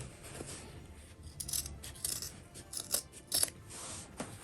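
Scissors cutting waterproof fabric for a sewn basket and handbag: a series of short, crisp snips close by, irregularly spaced, with no talking.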